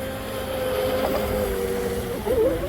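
Twin brushless motors on a Deltaforce 29 RC boat whine steadily as it runs on the water, the pitch wavering near the end.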